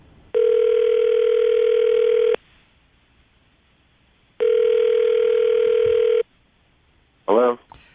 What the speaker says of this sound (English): Kaylee, we're going to call him right now, see if we can get him on the phone